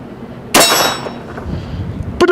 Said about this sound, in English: We say we ring a little steel with the old girl